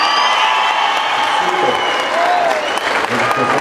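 Loud, continuous audience clapping at a rancho tournament in Tamazulapan, with a few whoops and cheers rising over the dense applause.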